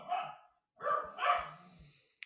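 A dog barking indoors: two or three sharp, fairly close barks in quick succession with a short pause between them, with no talk.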